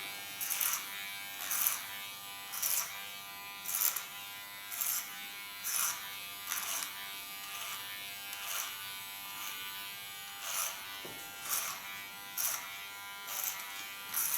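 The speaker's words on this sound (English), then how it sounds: "I work with my large T.K.S clipper" A large T.K.S electric hair clipper buzzes steadily through hair, its drone rising into brief louder bursts in a regular rhythm as it passes through, close and clear with no talk.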